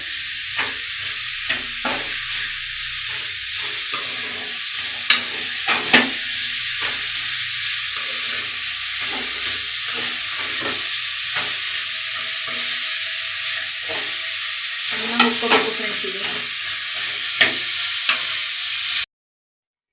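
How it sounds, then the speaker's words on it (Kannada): Steady, crackling sizzle of potatoes frying in hot oil until golden brown, with occasional sharp pops and spatters throughout. "ಆಲೂಗೆಣ್ಣೆ ಚೆನ್ನಾಗಿ ಉರಿಬೇಕು ಗೋಲ್ಡನ್ ಬ್ರೌನ್ ಬರಬೇಕು"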